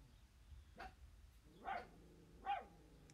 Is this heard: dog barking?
yes